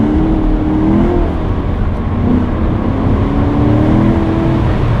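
A Chevrolet Corvette C7 engine revs hard and accelerates, a loud continuous roar with rising pitch and a rough, gritty texture from tires breaking loose.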